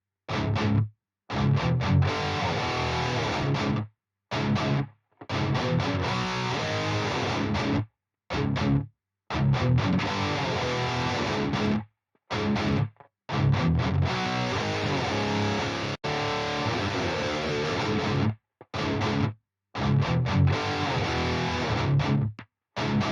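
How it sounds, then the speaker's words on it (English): Thick distorted electric guitars in a music mix, thickened further by the mix knob of a distortion plugin, playing in chopped phrases with frequent abrupt silent gaps between loud bursts. "I'm gonna use only the mix knob here on these distorted guitars to add more distortion and to make the guitar sound thicker."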